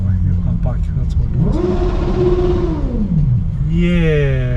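A motorbike revs hard in Brisbane peak-hour traffic, its engine note climbing then falling before rising again, loud and close over a steady traffic drone, with a voice talking at the same time.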